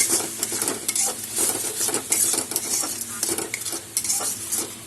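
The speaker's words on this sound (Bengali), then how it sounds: "সব মশলা এখন আমি একসাথে কষিয়ে নেব" Spices stir-fried together in oil in a pan make a constant sizzle, with repeated utensil scrapes and clinks against the metal, close and busy throughout, without any voice.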